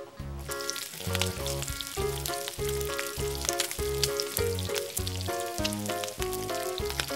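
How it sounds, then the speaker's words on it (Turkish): Toy meatballs and sausages on a Barbie barbecue playset sizzle loudly, a dense crackling fry with steady popping over a pulsing background of music. "Köfte ve sosisleri pişiriyorum."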